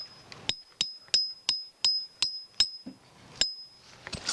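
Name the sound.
hammering tent stakes into the ground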